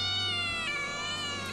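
A cat meows in one long, steady, drawn-out call, close and loud, with a bright harmonic tone that ends in a sharp rise.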